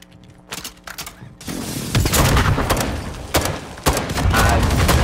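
An airstrike pounds a target in Call of Duty: Modern Warfare II, opening with sparse gunfire before a loud, rumbling barrage of blasts and sharp impacts builds up close, with a heavy hit near the end.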